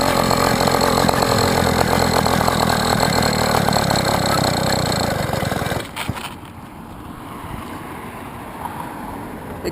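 A rebuilt two-stroke engine on a motorized bicycle runs with a steady buzzing drone for about six seconds, then cuts out, leaving wind noise and faint hiss; loud and close, no speech.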